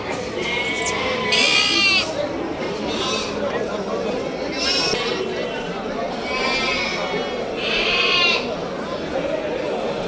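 Bandur sheep lambs at a livestock market bleat repeatedly in short, wavering cries, several close by, over steady crowd chatter and people talking nearby.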